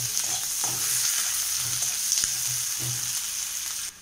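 Onion, cucumber and green chillies fry golden brown in a pan with a continuous, close sizzle, broken by several soft stirring scrapes at an irregular rhythm and a sharp knock near the middle, with no talking.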